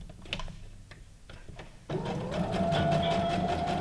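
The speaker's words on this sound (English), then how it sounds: "I'm just going to use a straight stitch to put this on" A sewing machine stitches a straight seam to attach printed paper ephemera for a junk journal; a few light taps lead into a steady, close mechanical whir.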